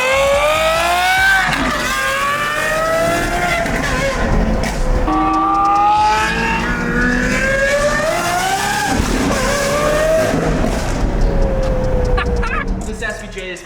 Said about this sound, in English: we have access to check out this Gintani exhaust